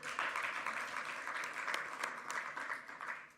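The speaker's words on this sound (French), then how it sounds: "À applaudir." Audience applause at a pharmacists' talent show event at Officine Expo 2024, a steady dense wash of clapping from a sizeable crowd, continuous and moderately loud throughout.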